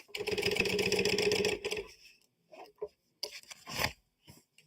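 A sewing machine stitches through a piece of vinyl folded in half at a quarter-inch seam allowance, running in a steady rapid burst for about two seconds before stopping. Soft handling noises follow.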